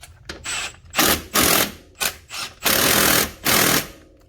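Bolts on a Can-Am Gen 2 brake caliper being tightened with a power tool after a brake pad change, in several loud, close mechanical bursts of buzzing rattle separated by short pauses.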